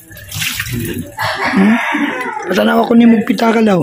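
Water runs from a tap during dishwashing, a steady splashing hiss partly masked by a loud voice talking over it close by.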